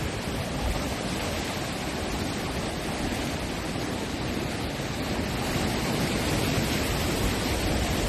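Strong ocean waves surge along the Kona coast in Hawaii, a steady, dense roar of surf with no pauses, heard up close and fairly loud with no voices.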